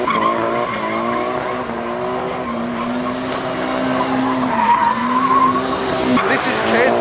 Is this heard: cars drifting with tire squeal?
yes